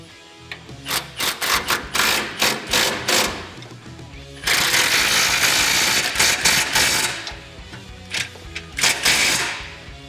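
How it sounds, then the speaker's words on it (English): Mounting hardware on a grille guard for a 2016-2018 Chevrolet Silverado 1500 HDX being tightened down with a power tool, in repeated loud mechanical bursts, then a longer sustained run, with no talking. "we're just going to tighten down all that hardware"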